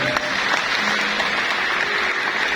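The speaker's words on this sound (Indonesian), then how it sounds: "Tepuk tangan untuk Tuhan" A congregation claps together during a Christmas sermon in Manokwari, West Papua, a brief steady burst of group applause with faint background voices.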